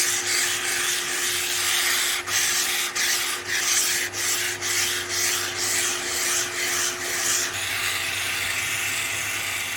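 Sandpaper of 180 grit rubs against a wooden turning tool spinning on a wood lathe, a continuous close, loud abrasive hiss with faint periodic dips as the paper shifts.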